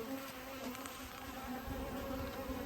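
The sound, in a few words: honey bees returning to the hive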